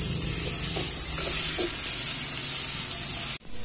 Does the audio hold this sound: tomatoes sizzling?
yes